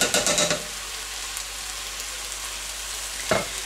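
Stewed tomatoes from a can tip onto browned ground meat and onion in a hot pan, giving a brief wet splatter and sizzle at the start, then a steady frying hiss, with a short clank or stir near the end.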